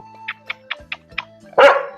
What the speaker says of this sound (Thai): อย่าเห่าลูกอย่าเห่า